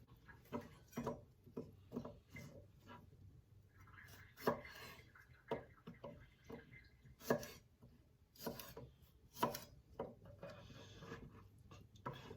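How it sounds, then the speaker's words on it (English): Fresh asparagus chopped finely with a knife on a cutting board, a close, steady run of crisp taps and thuds at an uneven rhythm, with no talking. "Fresh asparagus, so I'm just going to trim the edges and chop them finely."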